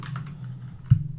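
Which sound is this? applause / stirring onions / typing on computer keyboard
typing on computer keyboard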